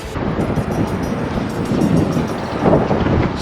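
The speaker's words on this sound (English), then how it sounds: "So windy." Wind buffeting an outdoor microphone at a railroad crossing location, a continuous loud low rumble with gusty swells that dominates the sound throughout.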